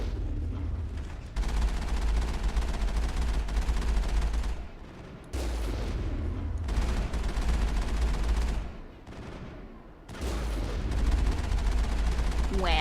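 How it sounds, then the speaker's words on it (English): Sustained gunfire during a Mass Effect firefight, dense bursts of shooting rolling on through long stretches with brief lulls, loud and close, with a voice talking over parts of it. "just shooting and shooting and shooting and trying to take care of them"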